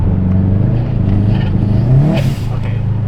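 A Subaru WRX engine with a slipping clutch revs loudly up close, its pitch rising and falling over a rough, clattery idle, and voices can be heard under it.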